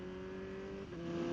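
Kawasaki Z900 motorcycle engine humming steadily under light throttle, with a brief dip partway through as a quick shift drops the pitch before it resumes climbing.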